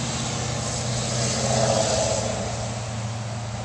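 A loud truck engine rumbles steadily past on a country road, a deep continuous drone that swells slightly midway through and then holds, with no other sounds over it.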